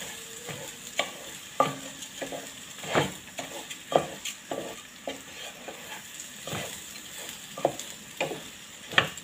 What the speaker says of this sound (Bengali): এখন চালটাকে আমি ভালোভাবে ভেজে নিব